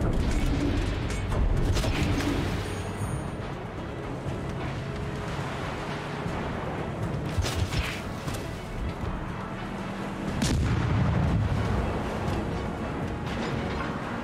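Naval gunfire and shell impacts on a warship in World of Warships, heavy booms and crashes rolling over a dense, continuous battle din with engine rumble, loudest early on and again near the end.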